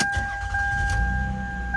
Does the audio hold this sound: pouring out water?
no